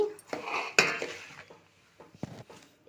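A spoon stirs and mixes ingredients for a sweet gulfi in a metal bowl: intermittent clinks and knocks against the rim between softer scraping swirls, close and moderately loud.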